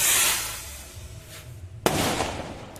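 A voice-controlled rocket firework launches: a hissing whoosh fades, then a sharp bang lands near the end, followed by a crackling rush.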